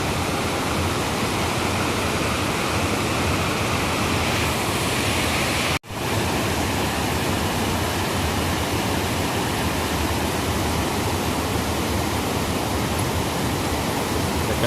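Water pours steadily over a weir on the Kaveri river, a dense continuous rushing roar heard up close with no voices, broken only by one brief dropout partway through.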